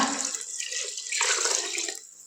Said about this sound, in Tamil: 1 லிட்டர் தண்ணி சேர்த்து கொடுத்துக்கோங்க.